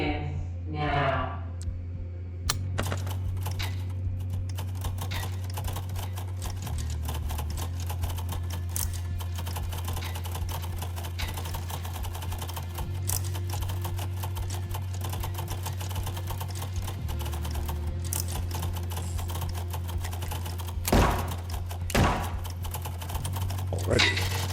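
Rapid keyboard typing in the indie game Final Sentence, a dense stream of clicking keystrokes over a steady low hum, with a person's voice occasionally speaking over it.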